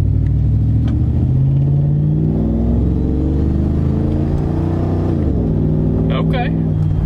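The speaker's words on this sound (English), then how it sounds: "It's got to reprime the fuel, so it's going to misfire a little bit." A first-generation Toyota Tundra's 4.7-litre V8, fitted with upgraded 12-hole injectors, idles with a steady low rumble and a slight irregular misfire, heard close up and loud without talk.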